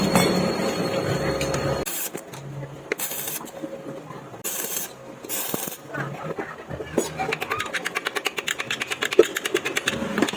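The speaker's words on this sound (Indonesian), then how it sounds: "lalu lanjutkan pengelasan." Welding a hugger bracket onto a Honda Vario 125/150 scooter produces a steady buzzing crackle that breaks into several short bursts, then settles into rapid ticking, close and moderately loud.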